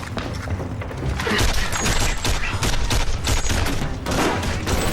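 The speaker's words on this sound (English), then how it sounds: "opened fire, and the sound of bullets resonated like a symphony orchestra of terror" A dramatized firefight erupts in dense, continuous bursts of automatic gunfire, loud and close, with rapid overlapping shots and booming thuds that carry through the whole stretch.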